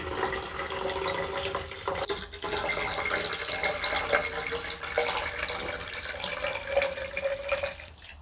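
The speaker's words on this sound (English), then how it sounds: "now we're going to add our 500 millilitres of cold water" Cold water, 500 millilitres, poured from a jug into a bottle while making kilju sugar wine; a steady splashing, filling rush, close and continuous, with a rising tone toward the end.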